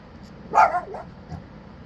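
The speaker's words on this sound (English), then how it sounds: "That is my deaf dog barking" A single sharp bark from a deaf dog rings out close by, followed by a softer, shorter yip, with no talking.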